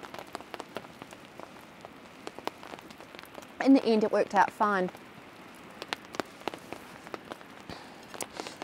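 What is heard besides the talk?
rain falling in forest while tent camping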